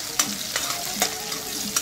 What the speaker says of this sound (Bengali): এদিকে রসুনটা আমার ভাজা হয়ে এসছে প্রায়